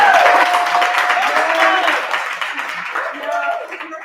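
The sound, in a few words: audience applause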